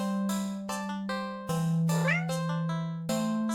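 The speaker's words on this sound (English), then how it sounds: "the cat meowing" A cat meows repeatedly in the video game Do Not Take This Cat Home, with several loud, close, drawn-out meows in a row and one rising, wavering cry near the middle.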